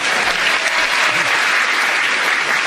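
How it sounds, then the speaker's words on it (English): A studio audience at a radio panel game breaks into loud, sustained applause, a dense steady roar of clapping filling the whole stretch with no pauses. "he got the emotion of the audience with him of a huge applause"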